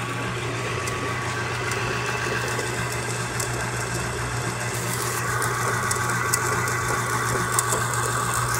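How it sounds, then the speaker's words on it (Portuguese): A small washing-machine motor drives a homemade lathe fitted with a Volkswagen Beetle pulley. It gives a steady, continuous motor hum at close range that holds even throughout, with no talking. "Aí coloquei esse motor aqui de tanquinho só pra ver, né, como é que ele vai rodar"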